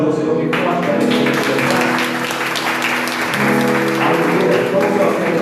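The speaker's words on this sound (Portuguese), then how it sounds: "Você pode aplaudir o Senhor bem forte para ele." A church congregation at a garage worship service applauds loudly, dense sustained clapping throughout with a sustained musical tone underneath.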